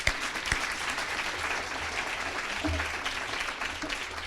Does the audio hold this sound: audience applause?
yes